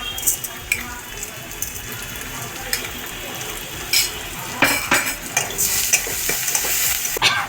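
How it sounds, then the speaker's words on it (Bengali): Onions lightly frying in a pan for chire poha, a steady close sizzle with repeated scraping stirs and utensil clinks, growing busier toward the end. "পেঁয়াজটা আমি বেশি লাল করে ভাজবো না হালকা ভাজবো"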